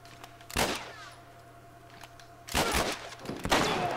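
Gunfire in the video game The Last of Us Remastered, a sharp burst near the start, then a cluster of loud shots toward the end separated by a quieter stretch.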